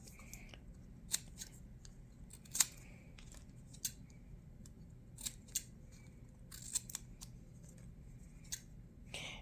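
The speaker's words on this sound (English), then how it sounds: "just trim them. It's really easy to cut through these" Scissors trimming handmade paper tiles cut from program pages, giving faint, sparse snips at irregular intervals against a quiet room background.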